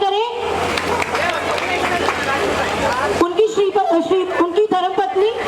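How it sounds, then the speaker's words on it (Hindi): Applause from an audience at an outdoor Dussehra festival gathering in a park, a dense, steady wash of clapping and crowd noise followed by a voice speaking over thinner clapping. "तालियों से अभिनंदन करें"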